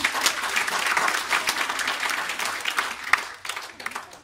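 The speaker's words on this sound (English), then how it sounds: "You can clap" An audience at a beauty and wellness talk breaks into clapping, a loud dense patter of many hands that stays steady throughout with a few sharper claps standing out.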